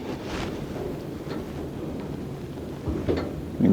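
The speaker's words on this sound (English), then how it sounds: "This wind is definitely breezing by." Wind at an outdoor shooting range buffets the microphone as a steady low rumbling roar with gusty swells, getting stronger toward the end, with no talking.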